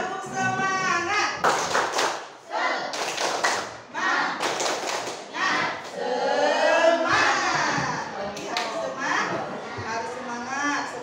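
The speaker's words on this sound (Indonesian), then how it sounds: "Ayo, tepuk semangat." Indonesian classroom students performing the 'tepuk semangat' rhythmic clapping chant, bursts of patterned hand claps alternating with loud shouted group chanting, close and energetic throughout.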